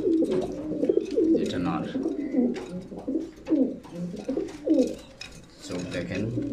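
A pair of pigeons coo close by in soft, repeated rolling calls, while someone speaks intermittently over them.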